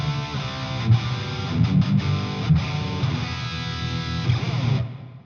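A distorted high-gain riff on a Gibson Les Paul runs through a Marshall JVM410H into a WGS Retro 30 speaker, miked with a JZ V11 microphone. It carries sustained chords and a few muted chugs, then fades out at the end.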